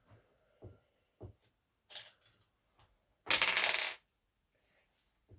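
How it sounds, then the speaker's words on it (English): A red die rolls across a tabletop during a tabletop role-playing session, giving a burst of rattling clatter after a few scattered small clicks and taps, close and otherwise quiet. "Roll me a red dice."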